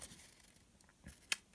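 Gerber Dime multi-tool scissors snip in a quiet room, giving a few faint clicks and then one sharp, crisp cut near the end.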